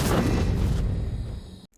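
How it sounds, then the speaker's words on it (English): A booming magic book explosion from the video game Star Stable: a heavy low blast bursts at once, then rumbles and decays over about a second and a half before it cuts off. "Magic book explosion."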